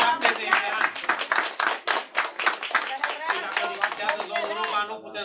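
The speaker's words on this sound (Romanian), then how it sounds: "nu puteți să nu aplaudați" An audience at a charity fundraising auction for children with disabilities claps in quick, uneven bursts, with an auctioneer's voice running over the clapping.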